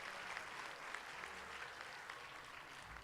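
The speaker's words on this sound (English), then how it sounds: "a big round of applause to your parents" A commencement crowd at Bronx Community College applauds graduates' parents, a steady, even patter of clapping from many hands heard at a moderate distance throughout.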